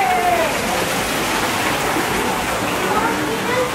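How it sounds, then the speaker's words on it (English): Water flows steadily outdoors in a natural setting, a dense continuous rushing wash close by with a faint voice briefly over it. "Water."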